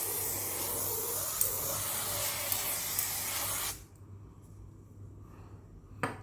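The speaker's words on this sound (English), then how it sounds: "I'm just going to spray it directly to my face." A steady, close hiss of a sunscreen face mist spray lasting several seconds, then cutting off abruptly into near silence.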